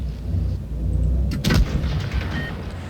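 A tank cannon fires in World of Tanks Blitz, a single loud boom with a sharp crack that rolls into a low rumble, standing out over a steady background of game engine and battle noise.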